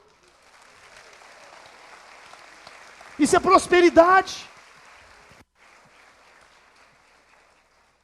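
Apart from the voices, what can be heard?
church congregation applauding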